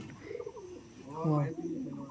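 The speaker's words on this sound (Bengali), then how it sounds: "এটা পাট্টা পায়রা দেখাচ্ছে এটা পাট্টা মেল আছে দেখুন" A male Madras pigeon coos softly nearby in a low, rolling call, with faint background murmur around it.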